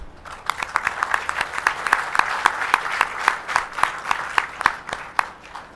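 A modest workshop audience applauds the speakers at a biofertilizer technology-transfer session, individual claps clearly distinct and irregular, building and then thinning out near the end, close and without speech.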